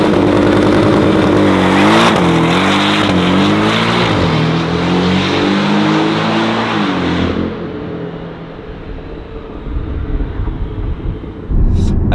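A rear-wheel-drive car launching hard from 0 to 100 km/h, its engine roaring loudly up through rising revs with quick gear changes, then easing off as tyre and road noise take over near the end.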